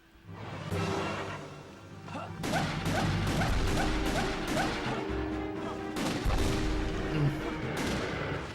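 Henry's gun fires in Castlevania: Legacy of Darkness on the Nintendo 64, a string of sharp, loud shots at uneven intervals over steady in-game music and effects.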